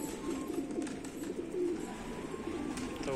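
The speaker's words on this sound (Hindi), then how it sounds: "अब ये सारे जंगली कबूतर उतरेंगे इनके साथ" Wild pigeons cooing alongside domestic pigeons as they feed on scattered grain, a low, continuous murmur heard from close by.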